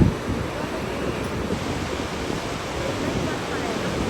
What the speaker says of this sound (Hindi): यहाँ से सरस्वती नदी निकल रही है